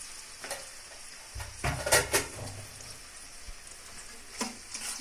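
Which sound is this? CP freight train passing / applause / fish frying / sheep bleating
fish frying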